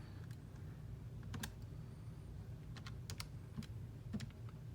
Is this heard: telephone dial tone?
no